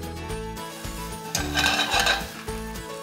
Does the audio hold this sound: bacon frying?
yes